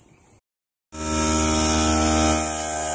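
A pancake air compressor for a smoke machine setup kicks on after a brief silence and runs with a loud, steady, droning hum close by, with no talk.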